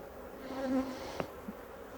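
Honey bees buzz during a hive inspection, a faint, close drone with one brief louder pass and a tiny tap near the middle, no talk.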